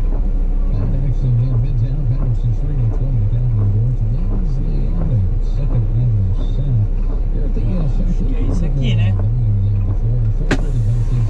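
A truck engine in a truck-driving video game hums low and steady throughout while a person talks over it almost continuously.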